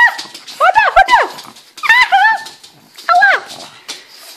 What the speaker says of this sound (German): Hunde, Hunde!